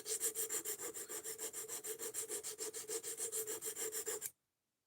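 Knife blade sharpened on 320 grit abrasive, a fast, even rhythm of about two dozen rasping strokes, close and alone, ending abruptly in silence.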